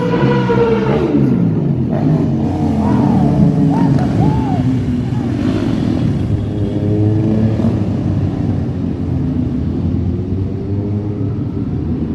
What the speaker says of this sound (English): No, it's motorcycles.